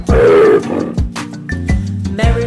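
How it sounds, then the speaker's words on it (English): Lion roar in a children's song remix: repeated loud, growling roars in rhythmic bursts, close and dominant over a musical backing. "If you see a lion, don't forget to roar."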